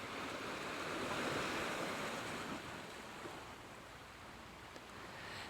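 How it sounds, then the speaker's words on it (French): Sea waves roll behind the listener in a steady, soft surf wash, swelling slightly and then easing, with a faint breeze and no voices. "comme les vagues que vous entendez de la mer derrière vous"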